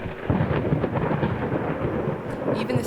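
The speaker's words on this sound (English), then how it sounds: "is it raining outside or is it raining in this game? But it's the game." Steady rain and a deep rolling rumble of thunder from the horror video game Layers of Fear, a loud, continuous storm wash with no talking.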